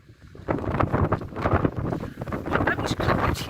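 Strong wind gusts of about 65 km/h buffet an Olpro Voyager tent on a 449 m hill, with a roaring, flapping rumble that surges and eases, loud and close.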